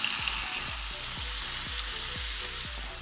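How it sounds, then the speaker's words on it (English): Steady, close sizzling of beans frying in hot lard, a continuous crackling hiss with a faint repeating low thump underneath. "just frying in that lard"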